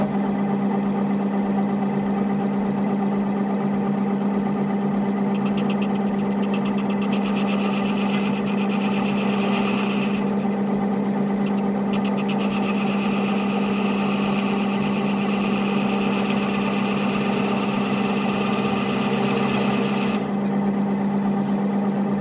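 Wood lathe spinning a segmented bowl with a steady motor hum while a tool cuts a recess for a walnut floating disc, with bursts of hissing, scraping cutting noise coming and going throughout.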